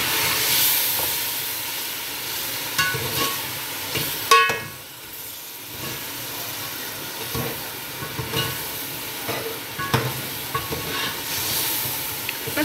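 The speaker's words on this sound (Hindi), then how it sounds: "फिर इसको अच्छे से मिक्स कर लेंगे।" Aloo matar chicken being stirred and fried with spices and black pepper in a pan, with a steady close sizzle and repeated scraping stirs of the spoon, and no talk.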